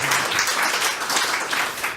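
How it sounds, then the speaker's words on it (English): A studio audience on a talk show claps in steady, dense applause for about two seconds. The applause is loud and fills the whole clip with no voices over it. "Big round of applause."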